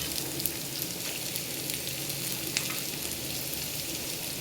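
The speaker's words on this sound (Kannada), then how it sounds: "ಈಗ ಸ್ವಲ್ಪ ಹಚ್ಚಿರೋ ಈರುಳ್ಳಿ ಹಾಕ್ಕೊಳ್ಳೋಣ" Chopped onion frying in a pan for pasta, a steady close sizzle with light crackles and occasional stirring scrapes, moderately loud and continuous, no talking.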